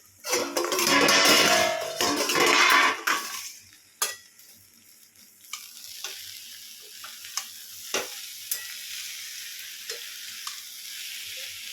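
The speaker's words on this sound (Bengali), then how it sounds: "এ দেখো আলু ভাজা চাপিয়ে দিয়েছি" Potatoes fry in a pan at home alongside a finished pot of khichuri, a loud hiss and stirring for the first few seconds, then quieter sizzling broken by sharp scrapes and taps of a utensil against the pan.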